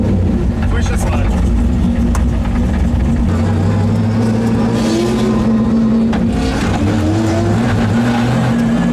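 A 1000whp drift car hot-laps an open track at a Grid Life event, its engine a loud, steady roaring drone with shifting pitch and occasional rising revs, while voices talk over it.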